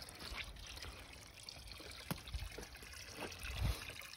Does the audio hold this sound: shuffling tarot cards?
no